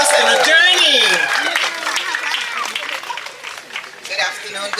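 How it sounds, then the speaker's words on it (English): An audience at a storytelling event gives a round of applause for the storyteller, with dense clapping that starts strong and gradually thins out, partly overlapped by a voice speaking. "let's give a warm round of applause to Joselyne Arnell"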